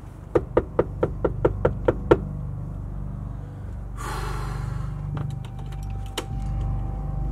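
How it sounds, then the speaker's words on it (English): A series of about eight sharp, evenly spaced knocks on a door, close and loud, followed by rustling noise and a few scattered clicks. "Let's knock on the door."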